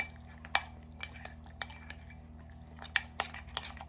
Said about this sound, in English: You want that butter melted and the chocolate chips melted. I'm just going to stir.